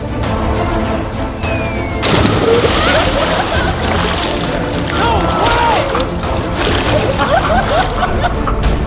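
Water splashes and sloshes continuously around a pogo stick bouncing underwater in a pool, with a sudden louder surge of churning water partway through. Excited voices are heard over the splashing.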